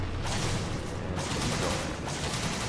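Rapid gunfire from a bowgun in Monster Hunter 3 Ultimate during a hunt of a Hallowed Jhen Mohran, a dense steady barrage of shots under game noise.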